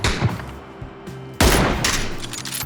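Bursts of gunfire in PUBG, a scattered volley early on followed by a louder, denser fusillade that keeps rattling on.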